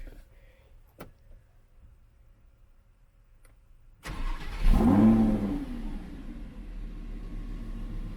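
A Lamborghini Huracan LP 610 in Strada mode sits quiet with a few faint clicks, then its engine fires with a sudden loud bark and rev flare before settling into a deep, steady idle rumble.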